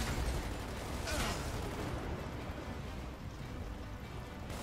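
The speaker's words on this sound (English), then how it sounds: "Not anymore, it's just rain now." Steady rain pours in the video game Gears of War 2, a dense, continuous hiss filling the scene with a couple of brief sharp bursts, like distant gunfire, breaking through early on.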